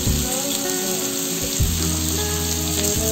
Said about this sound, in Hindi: वेजीज थोड़ा फ्राई हो चुका है।